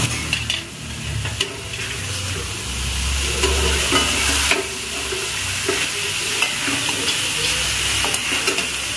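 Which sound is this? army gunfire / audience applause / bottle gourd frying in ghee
bottle gourd frying in ghee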